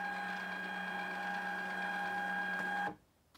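A Zebra ZP450 label printer runs a label through with a steady mechanical whine and hum for about three seconds, close by, then stops abruptly, leaving near silence.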